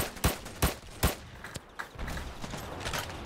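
Semi-automatic weapon in a video game fires three evenly spaced, sharp shots, then a couple of fainter single reports trail off under ambient game noise.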